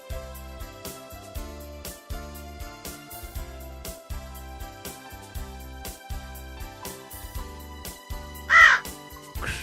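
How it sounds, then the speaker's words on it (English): A single crow caws once, short and fairly loud, near the end over a steady rhythmic musical backing. "Crow."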